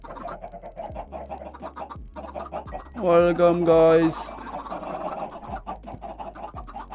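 Minecraft chickens clucking, a loud burst of squawky clucks in the middle over quieter background game sounds, with a voice talking briefly.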